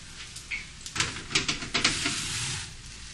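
Italian pork chops hit a hot pan and sizzle loudly, with a burst of crackling spatter that settles into a steady frying hiss.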